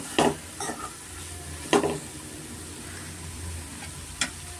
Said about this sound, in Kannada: ಮಿಕ್ಸ್ ಮಾಡ್ಕೋಣ ಸ್ವಲ್ಪ ಫ್ರೈ ಆಗಬೇಕಾಗುತ್ತೆ ಇದು